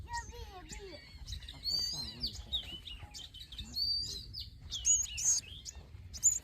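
A sparrow chirping close by, a run of short bright chirps and tweets scattered across several seconds, with background noise and faint voices underneath.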